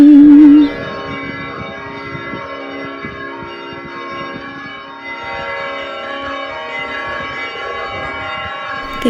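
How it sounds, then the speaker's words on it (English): Church bells ring in the small Greek town of Kalambaka, beneath the Meteora cliffs: a sustained, resonant wash of overlapping tones that carries steadily throughout with no talk. "The bells are"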